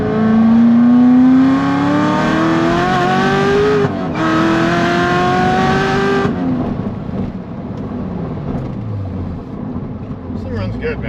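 A Chevrolet Corvette C7 Z06 V8 revs hard under heavy acceleration, its loud engine note climbing through gears with a brief shift break, then easing off into a lower drone as a voice comes in near the end.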